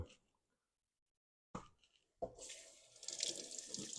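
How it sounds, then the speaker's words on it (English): Kitchen tap water runs into a bowl while ravioli are being made. After near silence and a couple of brief clunks, a steady, close, fairly loud gushing stream sets in and continues to the end. "Let's go ahead and just run some water on the inside of that."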